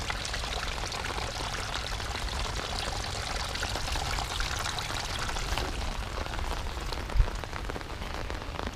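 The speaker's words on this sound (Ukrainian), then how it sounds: "От у нас тікає і ось тут вода під габіони затікає." Rainwater pours and rushes steadily under gabions at Blue Lake in Vynohradar, Kyiv, a continuous splashing flow close by, with rain-like hiss and no talking.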